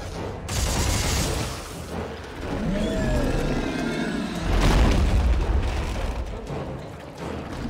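Gunfire and booms from enemies being shot in the Dead Space 3 co-op game, a steady dense clatter with heavy low blasts rising near the end, loud and continuous with no talk over it.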